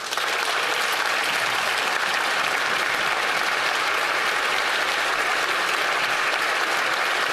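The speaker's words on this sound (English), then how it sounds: "Stop clapping for him." Members of the House of Commons applaud in the chamber as a new Speaker is welcomed, a steady, even wash of many hands clapping that holds at a constant level throughout, with no one speaking.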